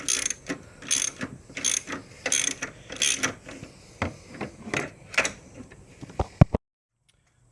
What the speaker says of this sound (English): I'm just going through with my extension here and tightening these down really good.